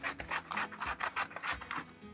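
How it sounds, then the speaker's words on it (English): Paper being trimmed down for an ice cream collage: close, quiet, rhythmic rasping and scraping strokes repeated several times in quick succession. "I'm gonna trim it down so that there's a little bit of"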